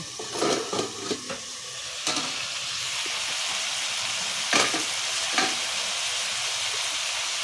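Prawns with pointed gourd tips are stirred in a pan over a soft steady sizzle, with a few scattered scrapes and clinks early on and then quieter simmering, close and moderately faint.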